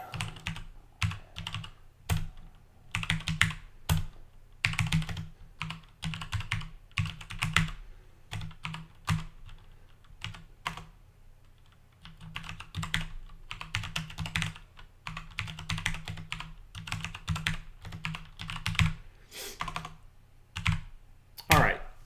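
Keys clatter steadily on a computer keyboard while a command is typed into a terminal, a dense run of close, crisp taps with brief gaps and no talking.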